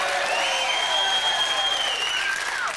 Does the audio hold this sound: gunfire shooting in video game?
no